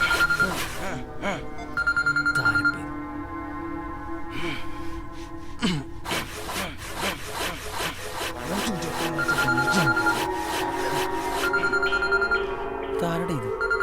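A phone rings from an unknown number in short repeated electronic bursts, heard several times over clattering, scraping and rubbing noises close by.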